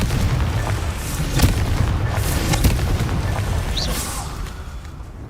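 Confringo blasting-spell explosions cast in the Hogwarts Legacy game, several sharp booms and bursts over a rumbling battle backdrop, fairly loud and close, with no talk.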